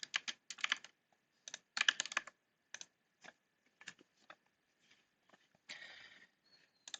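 Fingers type on a computer keyboard, clusters of quick close key taps with short pauses between bursts and a longer rattling run near the end, no voices.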